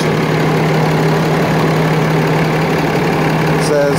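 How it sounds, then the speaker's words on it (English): Diesel engine idling steadily, a loud, close, continuous rumble with a constant low hum and faint knocking texture throughout, a brief rattle near the end. "This is for the diesel engine."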